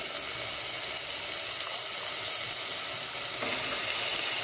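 Onion and banana stem sauté with curry leaves in a hot pan for a Mangalore-style sukka, giving a steady, close, even sizzle with soft hissing throughout and no voices.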